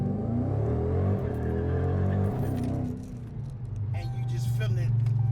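A Hellcat muscle car's engine rumbles and revs under acceleration, a steady loud drone rising in pitch, with a voice talking over it.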